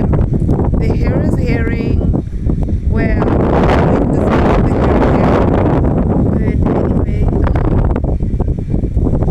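Strong wind buffets the microphone outdoors at a beach, a loud, constant rumbling roar that continues through the whole stretch, with speech faintly present underneath.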